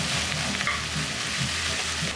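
A kilo of beef mince sizzles and fries in a pan for Bolognese while being stirred, a continuous close, loud hiss with soft scraping.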